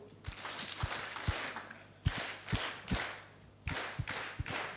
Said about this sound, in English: put our hands together for the two gentlemen and give them 3 heavy claps